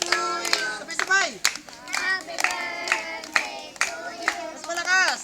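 Guests at a child's seventh birthday party clap along in rhythm while voices, including children, sing together, with the claps landing in short regular bursts between sung phrases.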